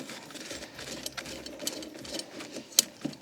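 Undoing the blade bolt on a lawnmower with a hand tool. Close, quiet, uneven ratcheting and scraping runs throughout, with one sharp metallic click near the end.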